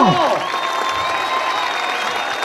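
An audience applauds the children of FC Giron-le-Puy as they open the 2006 Son et Lumière show at a Saint-Jean bonfire event. The clapping is steady and dense, with tonal music-like sounds mixed in.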